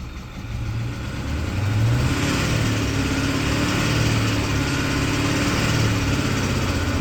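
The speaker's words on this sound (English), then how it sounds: "I'm gonna rev it up a little bit" A Ford 6.4 Powerstroke diesel truck engine is revved steadily, a continuous loud rumble that builds slightly and then holds at raised speed, with no one speaking.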